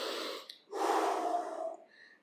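A person breathes while holding a stretch during an at-home arm workout, one long audible exhale through the nose and mouth after a short breath, close and clear with no talking.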